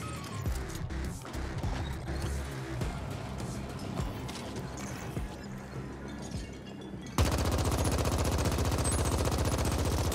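Rapid automatic bursts from a laser rifle in the sci-fi shooter The Ascent, a dense rattling stream of shots over busy combat noise, shifting to a harsher steady barrage near the end.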